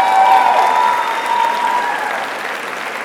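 A crowd applauds at a pharmacy faculty award ceremony, strong and continuous clapping that slowly eases toward the end, with a few faint tonal sounds beneath.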